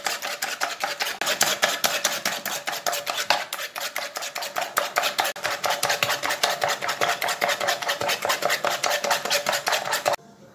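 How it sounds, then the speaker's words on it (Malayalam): A spoon beats egg whites in a bowl for a marble cake batter, giving a fast, steady stream of close metallic clicks against the bowl for about ten seconds before stopping abruptly. "ഇതിലൊരു സ്പൂൺ എടുക്കുക, നന്നായിട്ട് ഇങ്ങനെ പതപ്പിക്കുക"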